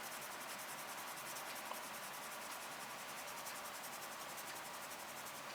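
Plastic model car body of an Aoshima 1:24 Toyota 86 kit being rubbed down, a faint, steady hiss of continuous fine abrasion with no pauses or talk.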